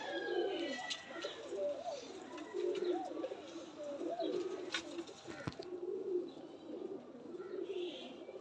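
A breeder pair of pigeons coos softly and repeatedly, low rolling calls in a steady rhythm, close but quiet, with faint background rustle.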